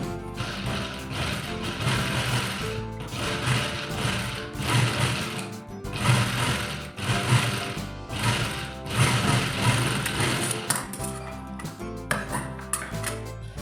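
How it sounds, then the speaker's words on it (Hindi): A sewing machine stitches right along the edge of fabric for a ladies' shirt. The machine runs loud and continuous, with rhythmic mechanical ticking and slight surges in speed. "यहाँ पर एकदम किनारे की सिलाई आपको मारनी है"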